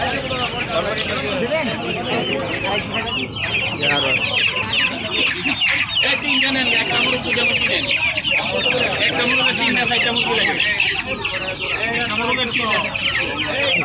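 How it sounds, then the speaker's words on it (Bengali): Fighter chickens cluck and squawk continuously at a busy market, with occasional crowing and constant crowd chatter throughout. "বড় একটা ফাইটার মুরগি।"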